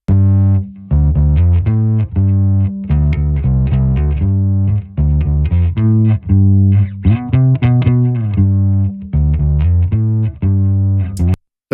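Loud, continuous music is heavily saturated by a clipping plugin, giving a crunchy, distorted tone with brief gaps between phrases and no speech.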